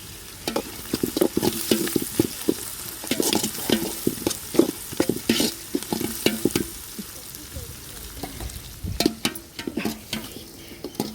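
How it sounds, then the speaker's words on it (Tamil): Chicken pieces sauté in a pan in a home kitchen, a continuous sizzle under rapid, repeated scraping and stirring strokes, fairly close, with a faint tap-water sound near the end. "நல்லா வதங்குது நல்லா கிண்டி விடும்"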